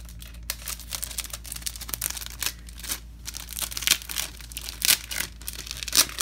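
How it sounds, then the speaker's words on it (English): Crinkly plastic treat bag packaging is opened and handled, with irregular bursts of crackling and rustling that run throughout at close range and moderate loudness, and no speech. "sorry about all that crinkling"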